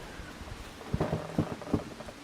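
Rain and rolling thunder in Farming Simulator 25, a steady wash of rainfall with several low rumbling thunder bursts in quick succession, fairly quiet overall and with no talking.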